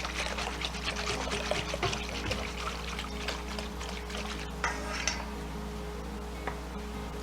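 Soy sauce pours into a bowl of ginger marinade, a soft trickling splash over a steady low hum, with a few light ticks and clinks near the end.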